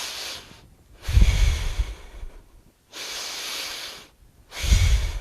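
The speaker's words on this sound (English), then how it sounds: "Another 2 rounds of deep breath." Deep, forceful breaths in a Kundalini yoga class, three long sighing inhales and exhales in an even rhythm, close and breathy with clear gaps between them.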